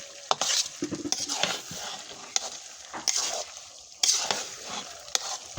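A utensil scrapes and stirs potatoes in a pan of sizzling oil, with sharp metallic knocks against the pan at irregular intervals.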